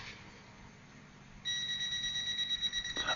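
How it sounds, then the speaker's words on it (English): A PT-210 combustible gas detector sounding its leak alarm: a sudden shrill, steady electronic beeping tone that starts partway through and keeps pulsing, close and fairly loud over a quiet background. "An alarm sounds."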